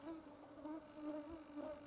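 Mosquitoes whine close by at an evening riverside bottom-line fishing spot in July, a thin, steady, wavering buzz with no speech.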